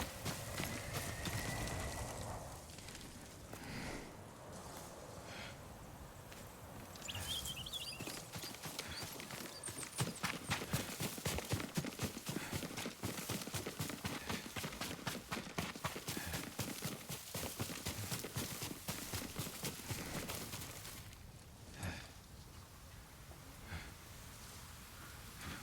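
A horse's hooves clip-clop steadily in Ghost of Tsushima, a loud, dense run of rapid hoofbeats that builds through the middle and fades near the end, with rain-like hiss underneath and no talk.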